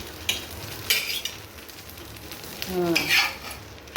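Soft sizzling of a barnyard millet dosa frying on a pan as oil is poured over it, broken by a few sharp clinks and scrapes of a utensil, close and fairly quiet.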